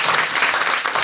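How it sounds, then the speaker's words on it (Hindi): Audience applause at a Hindi discussion show, a brief dense burst of many hands clapping at even loudness. "तालियां"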